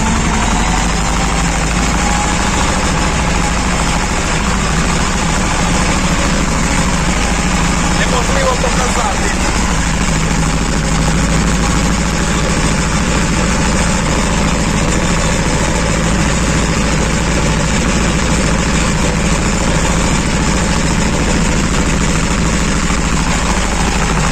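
A mini tractor engine runs steadily with a mini mower attachment cutting a second crop of grass, a loud continuous drone throughout, without clear speech over it.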